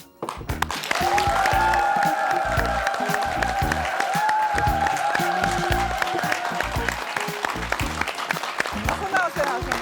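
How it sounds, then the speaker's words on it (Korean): A studio audience breaks into loud, sustained applause welcoming guests onto a talk show stage, rising sharply at the start and holding steady, with music and voices beneath the clapping. "여러분 큰 박수로 환영해 주시기 바랍니다"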